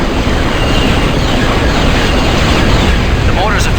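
Mortar barrage in Star Wars The Clone Wars on PS2: loud, continuous rumbling explosions that keep booming without a break, close and heavy.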